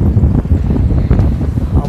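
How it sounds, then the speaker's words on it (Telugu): Homemade mini air cooler built around a table fan, running with a loud, close whooshing blast of air buffeting the microphone, steady and rough throughout with no talking. "కూలర్ ఆన్ చేద్దాం, మినీ కూలర్ చుట్టూ ఇక్కడ ఉంది, ఆన్ చేసాం."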